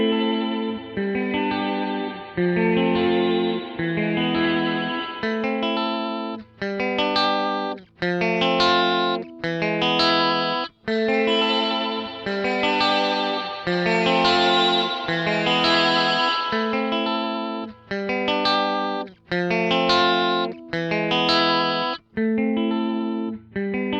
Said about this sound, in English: I'm gonna play the exact same audio with and without the effects so that you can hear the raw sounds of the pedal itself